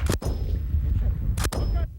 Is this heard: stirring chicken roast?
no